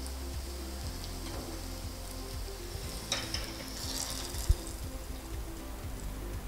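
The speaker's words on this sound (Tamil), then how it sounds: "நெய்யில் நல்லா பொரிஞ்சிருக்கு" Steady sizzling of garlic frying in ghee for garlic rasam, a continuous crackling hiss with occasional pops and a brief clink, no voices.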